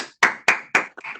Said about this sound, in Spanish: Le aplaudimos de nuevo a Gunther, ¿no?